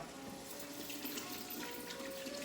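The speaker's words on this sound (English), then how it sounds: "I'm gonna wash my hands because I just touched the egg" Running tap water streams steadily while hands are washed at a kitchen sink during banana cake baking, a faint, even hiss of flowing water with no talking.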